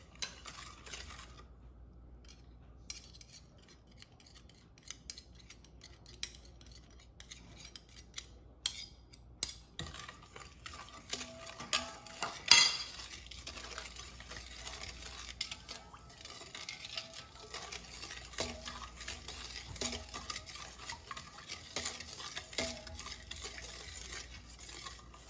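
Brown sugar being stirred into a Jamaican sweet potato pudding mixture, with soft scraping and clinking of a utensil against the bowl and a few sharper knocks, steady and close without talk.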